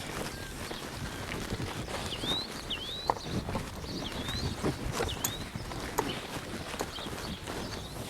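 A two-year-old horse walks slowly in a pen, its hooves landing in soft, irregular thuds, with a few sharper knocks and birds chirping faintly in the background.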